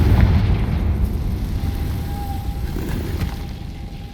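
Blasting-spell explosion from the Hogwarts Legacy video game: a loud, low rumbling boom that swells at once and decays slowly over several seconds, with a faint high tone drifting through the tail.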